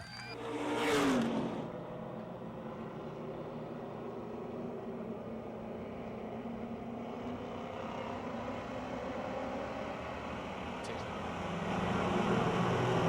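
Pure stock race cars at Pennsylvania Motor Speedway in Pittsburgh roar past as a pack, a loud close pass at the start fading into a sustained engine drone from the field circling the oval, swelling again near the end.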